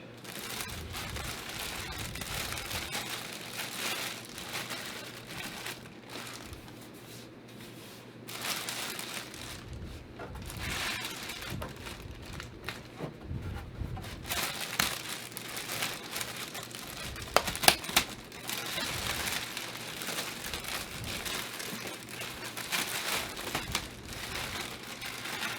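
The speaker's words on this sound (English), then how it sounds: "we'll just break into the plastic bag and pull out the first" Plastic bag crinkling and rustling while a Lowe's Kraken blow mold decoration set is unboxed, a steady close crackle with scattered louder crunches and no talking.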